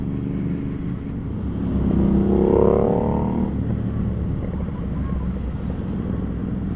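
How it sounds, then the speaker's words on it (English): Loud Ducati motorbikes ride through city streets, one engine rising in a revving pass that peaks mid-clip and fades, over steady road and traffic rumble. "literally बहुत loud bikes है"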